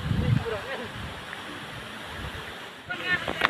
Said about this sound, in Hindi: ये है पेपे वाटरफॉल्स का पूरा खूबसूरत सीनरी